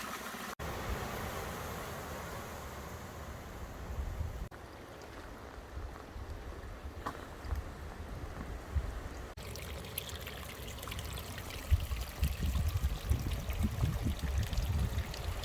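Steady splashing water pours and trickles continuously from a trailside spring spout, close by, with broadband rushing noise and no voices.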